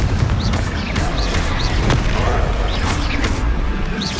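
Spell explosions from the Confringo fire spell in the Hogwarts Legacy video game, a dense run of loud booming blasts and crackling bursts during a hectic magic duel, with a voice calling out briefly amid the din.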